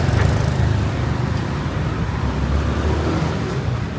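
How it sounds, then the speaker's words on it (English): Evening street traffic on Thonglor in Bangkok rumbles along steadily, with car and bus engines close by in a loud, continuous low drone and a faint high squeal near the end. "Look at all the traffic"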